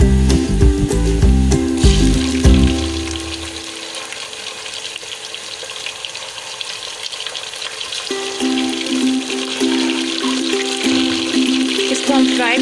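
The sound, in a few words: chicken frying in a pan with garlic and salt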